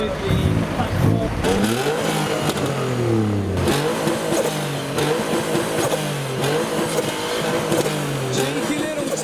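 Modified cars rev hard at a UK car meet, engines rising and falling in repeated throttle blips and sweeping pitch, loud and sustained with a crowd murmuring underneath.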